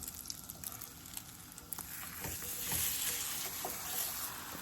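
French toast frying in a pan, a steady sizzle that grows louder after it is flipped, with a few soft bumps and scrapes, close and without talk.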